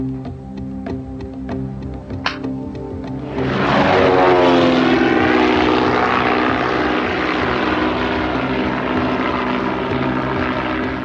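A propeller airplane flies on the route north toward Chitral. Its engine drone builds suddenly into a loud, sustained roar and holds steady, with faint ticking before the swell.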